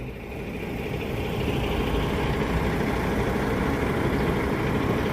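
Idling diesel engine of a Volvo B R 450 AP Euro 5 coach bus on the Palembang–Jakarta–Bandung route, a steady, loud low rumble that holds evenly throughout with no speech.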